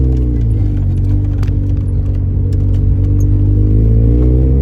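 A Mazda FB RX-7 rotary fitted with a Racing Beat exhaust idles at about 1,000 rpm, producing a steady, close, loud, low burbling drone throughout with no talking.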